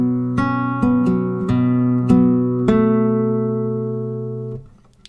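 Fingerstyle acoustic guitar playing the third bar of a song: a few plucked notes and chords, each ringing on, clear and close before fading out.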